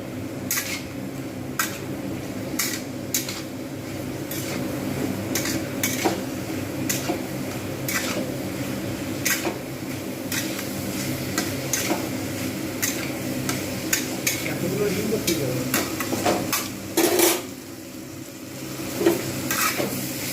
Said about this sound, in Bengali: আমি এবারে ভালোভাবে কষবো